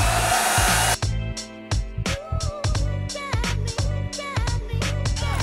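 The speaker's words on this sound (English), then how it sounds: "let's grab the heat gun and we'll get this going" A heat gun blows hot air steadily and loudly for several seconds, its continuous rushing hiss broken by a few brief cutoffs and restarts, while parts for DIY side splitters on a car are heated.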